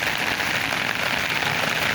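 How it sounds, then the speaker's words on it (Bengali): Heavy rain pours down steadily, a dense, loud, unbroken hiss of drops striking surfaces close by. "বৃষ্টি দেখেন কত বৃষ্টি পড়তেছে।"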